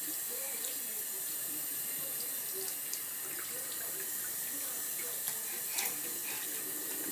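Water runs steadily from a tap into a sink while a face is rinsed, a continuous close hissing splash with small irregular spatters and no talking.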